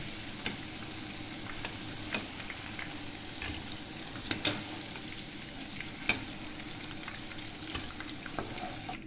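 Flat beans (sim) frying in oil in a pan, a steady close sizzle with occasional louder spatters and scraping clicks throughout.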